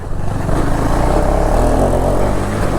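KTM 390 Enduro R motorcycle riding off-road on a steep decline in first gear, its single-cylinder engine droning loud and steady under engine braking with a rough, uneven rumble.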